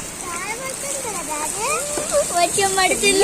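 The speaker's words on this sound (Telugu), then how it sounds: "వర్షం అయితే స్టార్ట్ అయింది." Rain falling during a downpour, a steady hiss of drops running under children's voices and chatter nearby.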